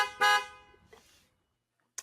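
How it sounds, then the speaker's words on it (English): A car horn honks on a quiet road, one loud blast followed by a softer, shorter toot, then silence before a brief clipped sound at the very end. "Honk twice if you're happy that Terry's back."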